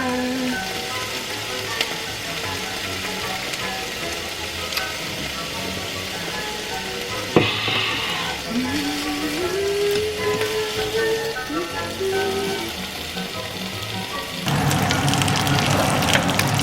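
Meat cooking in a hot pan on a trip to Paris gives a steady, close, hissing sizzle that continues throughout and swells louder near the end, with a faint tonal sound briefly in the middle.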